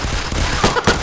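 Several gunshots from the game Unturned in a quick ragged volley, sharp and fairly close, fired by a group of players together.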